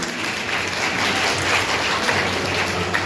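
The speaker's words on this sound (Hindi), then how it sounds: "बच्चों, इनके लिए भी जोरदार तालियां।" Students at a college public-education event organized by the Khadi village industries body clap for an invited guest, a steady, dense wash of applause that stays even and unbroken, heard without voices.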